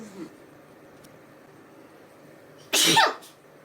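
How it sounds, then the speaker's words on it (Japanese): A single loud human sneeze bursts out near the end. A quieter breathy sound comes just before it, over faint room noise. "長くくしゃみって勢いだからな。"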